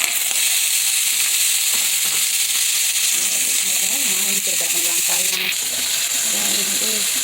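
Onions and peppers sizzle in hot coconut oil in a pan over high heat, a steady loud frying hiss with some stirring scrapes and crackles partway through.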